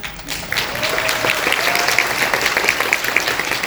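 Warm, sustained applause from a film festival audience at a screening Q&A, loud and continuous for the whole stretch, with a few sharper individual claps standing out and no talking over it.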